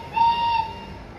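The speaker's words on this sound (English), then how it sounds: "Very important to sound the whistle." A steam locomotive whistle from locomotive 1243 gives one short, steady tone lasting about half a second, moderately faint and followed by quiet.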